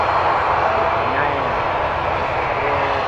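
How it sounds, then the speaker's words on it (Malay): Fixed-wing aircraft flying over the LIMA 2019 airshow in Langkawi, a steady engine roar holding loud and constant, with crowd voices and chatter mixed underneath. "kapal terbang ataupun kapal terbang Malaysia"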